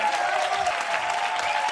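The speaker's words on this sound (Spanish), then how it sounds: "Un fuerte aplauso para Miki Nadal" Studio audience applause for a guest on a Spanish TV comedy show, a brief, full burst of many hands clapping, steady and fairly loud, with a faint tone running underneath.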